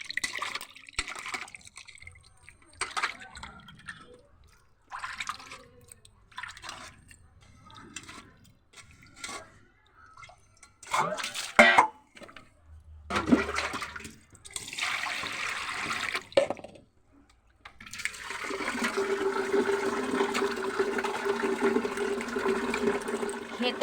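Water runs from a tap over freshly cut fish, first in short splashy bursts and then in a steady stream toward the end.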